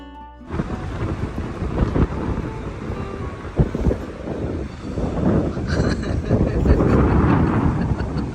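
Strong wind roaring across a beach at Cayo Santa Maria, Cuba, buffeting the microphone in a loud, continuous rumble that swells toward the end, with some talk underneath.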